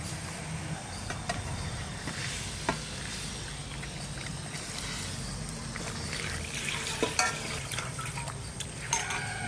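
Large pomfret fish simmering in a thin, lightly spiced curry broth in a pan in a village kitchen, giving a steady low bubbling and sizzling with occasional clinks and stirring, close and moderately quiet, no talking.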